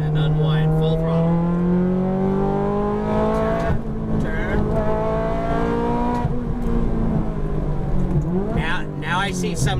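A Ferrari F430's high-revving engine climbs in pitch through the gears at full throttle on a track, loud and close, with brief talk over it.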